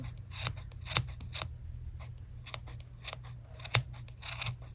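Scissors cut repeatedly through yarn wrapped for a pompom, giving a steady run of close, crisp snips with a low hum underneath.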